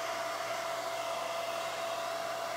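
A hair dryer blows heat onto a fresh acrylic paint pour on a fall leaf door hanger, a constant close whirring roar with a steady motor whine throughout.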